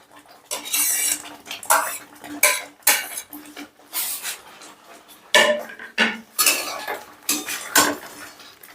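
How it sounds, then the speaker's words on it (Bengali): A spoon scrapes and clanks rhythmically against a pan as boiled chicken is stirred into a spice mix, with repeated bursts of metallic scraping close by and no talking. "এবার চিকেনটা দিয়েও মশলাটা বেশ ভালো করে আমি নেড়ে চেড়ে নিচ্ছি।"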